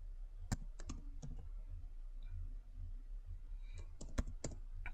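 An email address is typed on a computer keyboard in short bursts of crisp, close key clicks separated by quiet pauses, with no talking.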